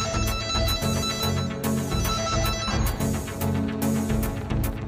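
NF-810 network cable tester tracing the target line, a loud warbling electronic tone pulsing in a rapid repeating pattern throughout, steady and close with no talking.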